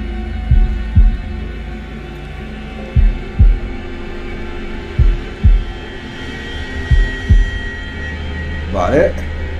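A thudding heartbeat pulses in the horror video game Man of Medan, deep double beats repeating at an uneven pace over a low droning hum, with a brief voice near the end.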